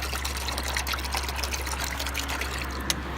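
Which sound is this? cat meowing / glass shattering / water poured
water poured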